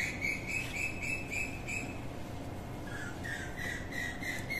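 Birds call from a mango tree in a run of thin, rapid, high chirps, moderately distant, repeating in two bursts over a low background hum.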